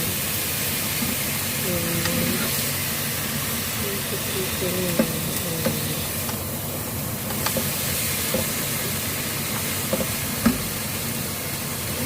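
Garlic shoots and anchovy being stir-fried with a sauce in a pan, a steady broad sizzle with scraping stir strokes and clinks throughout, fairly close and continuous.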